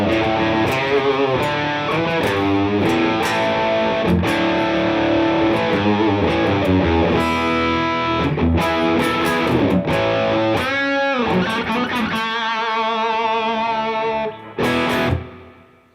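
Electric guitar played straight through an amplifier with no pedals or distortion effects, ringing out loud and continuous in full strummed chords and picked lines, with a brief pause and a final burst near the end.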